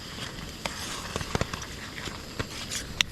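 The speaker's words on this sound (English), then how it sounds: "Raining in a single person tent" Rain patters on a single-person tent at a remote camp on a near-freezing early-winter night, with soft irregular taps and a few sharper drops standing out over a steady close hiss.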